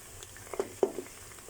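Onions and ginger-garlic paste frying in a pan for an aloo keema, giving a quiet, soft sizzle with a couple of small spluttering pops close by.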